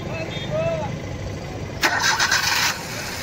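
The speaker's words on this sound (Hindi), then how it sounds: "गाड़ी स्टार्ट करो।" A Maruti Suzuki Wagon R CNG car, suffering from engine vibration and a pickup problem, cranks and catches with a short burst about two seconds in, then idles at close range.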